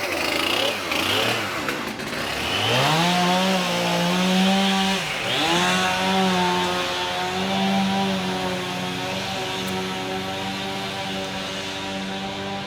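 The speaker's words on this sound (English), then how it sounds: "we're being chased by a chainsaw right now" A chainsaw running out on a city street near Wall Street, revving up with a rising whine, then holding a loud, steady buzz close by, with a little background noise and no clear talking.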